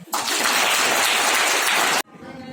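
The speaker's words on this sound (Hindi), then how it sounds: "अब पास में ताली हो जाए।" Dense, steady applause from an audience at a National Youth Day event held by the Brahma Kumaris in Solan, filling about two seconds before stopping abruptly.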